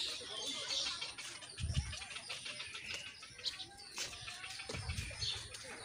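Birds at Rangpur zoo call faintly at a distance, with soft dove-like coos, scattered chirps and occasional wing flaps over a quiet outdoor background.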